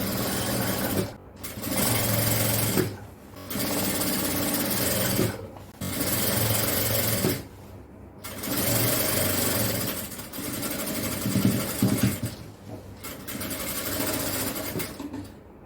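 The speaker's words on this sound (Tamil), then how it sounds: "அடுத்து இதுல 1/2 இன்ச்சு அளவுக்கு மடிச்சு தைக்கலாம்." A sewing machine stitches a folded half-inch hem on puff shorts, buzzing steadily in several long runs broken by short pauses, close and loud with no speech.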